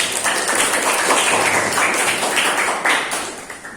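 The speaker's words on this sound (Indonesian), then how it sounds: "yang lain boleh tepuk tangan." Classmates in a classroom clapping their hands together, a fairly loud burst of group applause with uneven rhythm, tapering slightly toward the end.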